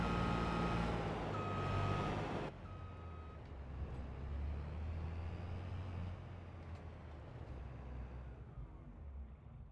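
Farm vehicle in a farming simulation game giving a steady series of reversing beeps over engine rumble, the beeping stopping after a couple of seconds while the low engine drone carries on.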